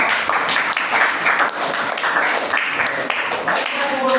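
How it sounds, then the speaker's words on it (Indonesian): Classroom applause for student groups after their presentations, a dense steady patter of clapping hands lasting several seconds with some voices mixed in. "Tepuk tangan dulu untuk semua kelompok."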